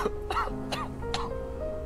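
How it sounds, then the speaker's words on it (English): A man coughs in the Charnel House Trilogy video game, in a room that may be filling with smoke. Three harsh, raspy coughs come close together over a low tonal background. "He's coughing a lot."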